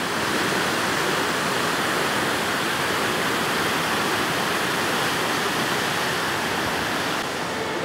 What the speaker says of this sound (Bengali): হতে পারে এখানে নদীর আওয়াজ তোমরা শুনতে পাচ্ছ